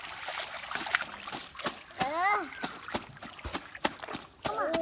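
Children bathing in a village pond splash and stir the water in quick irregular bursts, with close sloshing and dripping sounds while young voices call out over the top.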